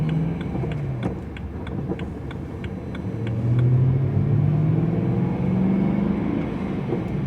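A BMW E90 M3 drives along with a steady engine rumble from inside the cabin, the note rising as it pulls away midway, with faint rhythmic ticking over the top.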